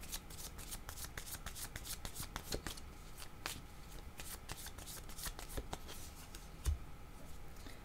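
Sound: shuffling tarot cards for a reading

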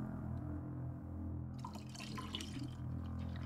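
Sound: pouring oneself a drink

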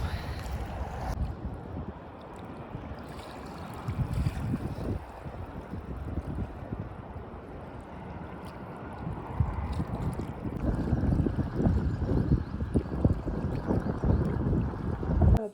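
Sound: wind

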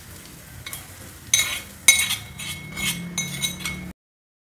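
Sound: spoon stirring onion tempering into chicken gravy

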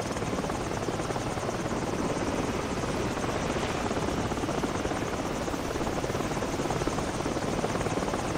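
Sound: helicopter flying overhead, from a video game

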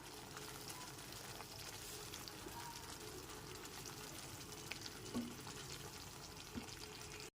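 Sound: hot water poured into frying spice mix

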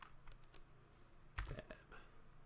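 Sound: typing a command on a computer keyboard

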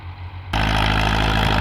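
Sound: Ford tractor engine plowing a corn field

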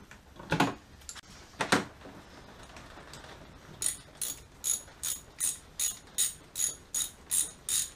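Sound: tightening a hose clamp on a boost leak tester

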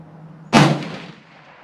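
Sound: gunshot at a shooting range target

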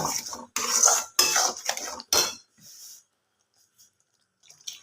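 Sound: stirring and frying egg curry masala in a pan

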